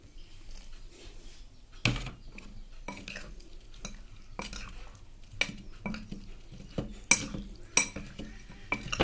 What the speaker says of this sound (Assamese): এতিয়া গোটেইখিনি মিক্স কৰি আকৌ এবাৰ লৰাই দিম